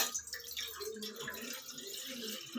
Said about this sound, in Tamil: 2 கிளாஸ் தண்ணி ஊற்றுறாங்க